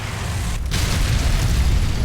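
A blast in the war game Combat Mission SF 2, likely from a dropped bomb, with a brief dip before a heavy low rumbling boom that rolls on steadily and loudly, alone without talk.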